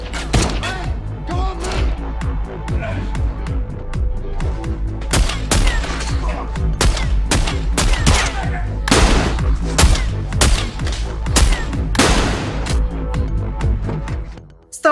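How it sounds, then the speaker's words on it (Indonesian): A gunfire exchange in an action film: rapid bursts and single shots crackle back and forth for the whole stretch, loud and dense, with impacts and thuds between volleys and no talk over it. "Alhasil terjadilah saling baku tembak."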